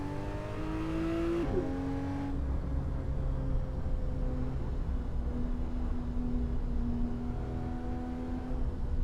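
A car in the Assetto Corsa driving game runs a steady, close engine drone along a tight road after an early gear change, holding near-constant revs with no talk over it.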